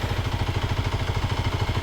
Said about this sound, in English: Oh, the engine's running though.